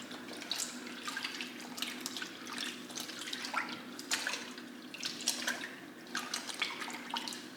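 Running tap water splashes and drips over hand-dyed alpaca and merino yarn being rinsed in a sink, an irregular close patter of bursts and trickles at moderate level with no talking.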